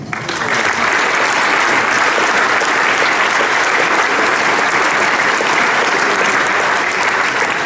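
Steady, dense clapping from a full theatre crowd at the close of a premiere stage show, loud and continuous throughout with no voices rising above it.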